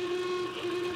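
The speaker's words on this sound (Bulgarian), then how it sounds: "Когато звука от прегракнал клаксон," Hoarse horn of a brand-new car at a hotel, a steady sustained honk that holds for the whole second at a moderate level with no talk over it.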